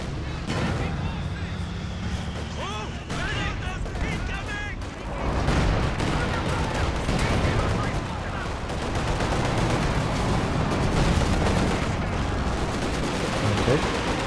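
Katyusha rocket artillery fires in the real-time strategy game Company of Heroes 2 during a 2v2 match, producing a dense, continuous barrage of rumbling blasts and crackling launches over a battle din, with a commentator's voice mixed in.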